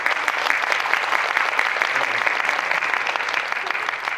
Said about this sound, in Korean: 우리 이재인 배우님께 박수 한번 부탁드립니다